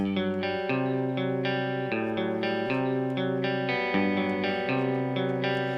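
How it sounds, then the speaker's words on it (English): A clean electric guitar plays a sustained chordal passage with a spacious reverb tail, steady and moderately loud with no voices. "So here's our clean tone in the rock reverb."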